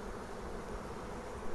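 Honeybees buzz in a dense, steady swarm at close range around an opened hive being worked with a smoker, a continuous even drone with no pauses.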